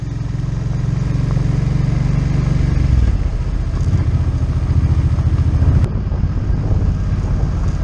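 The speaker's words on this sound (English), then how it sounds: "Taking a street bike on the gravel." A street motorcycle riding on a gravel road, with a loud steady engine drone and crunching tyre clatter close up throughout and a gear-change shift partway through.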